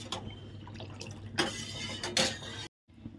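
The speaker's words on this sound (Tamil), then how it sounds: "இன்னும் கொஞ்சம் தண்ணி ஊற்றிக்கலாம்." Water poured into a pan of milk on the stove, a few light splashing and trickling bursts that stop abruptly, quiet and close.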